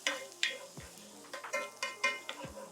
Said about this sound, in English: from here, we can kind of give it a stir